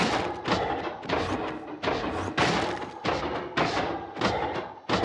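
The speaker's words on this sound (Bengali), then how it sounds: "আয়রন গোলেমটারে মারছি" Repeated blows landing on an iron golem in Minecraft survival, loud dull thuds and crunchy impacts coming in a steady rhythm of roughly one hit every half second to second.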